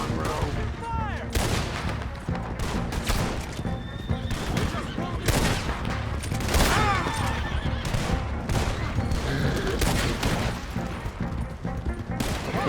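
Red Dead Redemption 2 shootout: rapid, loud volleys of rifle and pistol shots crack in irregular bursts throughout, close and repeated, mixed with horses whinnying and shouted voices in the chaos.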